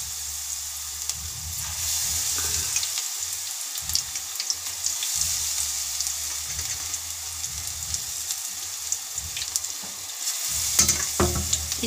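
Cauliflower pakoras fry in hot oil, a constant bright hiss and bubbling close by, with occasional low clatters as battered pieces are dropped in and moved around.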